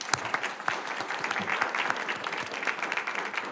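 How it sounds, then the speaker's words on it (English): Applause for election candidates at a Nampa Chamber of Commerce candidate forum for District 13, a steady wash of many hands clapping throughout with a few sharper claps standing out near the front. "So quick round of applause."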